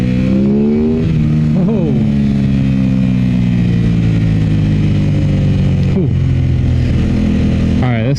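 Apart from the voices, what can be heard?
Aprilia RS 660 motorcycle accelerating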